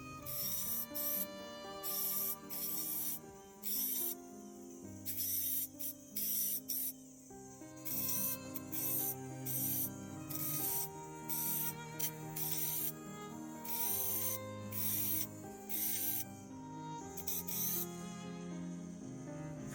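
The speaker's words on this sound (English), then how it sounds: "so I start by grinding a line right down the middle of the ring" Grinding a pattern of lines into a David Yurman cable ring with a small rotary grinder, a steady buzzing whine broken by a rhythmic run of short, loud rasping passes that repeat throughout.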